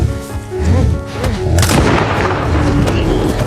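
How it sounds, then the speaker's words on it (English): A gunshot fired at a brown bear in a film scene: a loud booming report around the middle, set among rumbling, dramatic background sound and other impacts. "the gunshot enraged the beast again"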